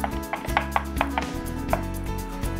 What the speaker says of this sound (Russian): Мелко, но достаточно небрежно рубится петрушка.